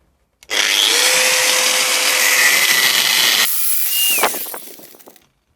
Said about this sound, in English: And with the angle grinder, you can hear it, maybe.